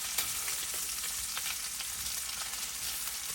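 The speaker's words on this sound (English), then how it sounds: "So the bacon is cooking. It's starting to brown, but it's got a long way to go." Bacon sizzles and fries steadily in a pan, rendering its fat with a dense, continuous crackle and no pauses or talk.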